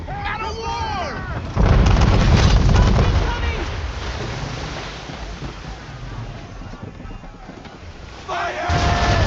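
A sailing warship in a naval video game fires a cannon broadside, a heavy booming roar of many guns that rolls into a long rumbling decay under wind and sea noise, with voices shouting orders before and after.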